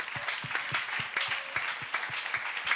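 Rhythmic applause from a church congregation, steady clapping in a loose beat filling the room throughout, with no talk.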